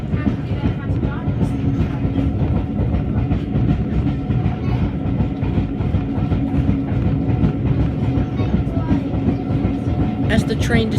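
Steam train on the North Yorkshire Moors Railway between Whitby and Pickering, a continuous loud rumble of carriages rolling on track with steady clickety-clack, heard from on board throughout.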